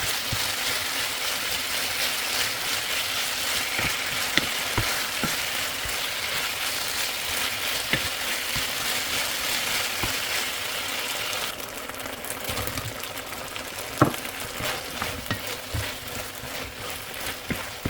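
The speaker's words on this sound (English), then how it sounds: "Cook the beef until it's nice and golden brown." Beef browning in a stir-fry pan gives a steady hissing sizzle throughout, with occasional clicks and scrapes from a utensil and a sharper clatter near the end.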